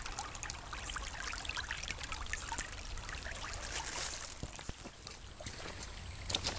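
Creek water trickles and burbles continuously at close range, a steady mid-level wash with a few sharper splashes and drips toward the end.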